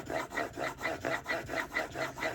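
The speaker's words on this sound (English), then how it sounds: "Left to right, right to left on the stone." A Japanese chisel bevel rubbed back and forth on a sharpening stone, producing a steady rhythmic gritty scrape of about ten even strokes, close up and moderately quiet, with no voices.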